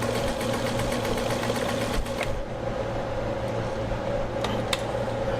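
Brother Coronado Duchess sewing machine stitching, a steady, fast mechanical whir with a rhythmic needle clatter that eases briefly midway, then resumes with a few light clicks.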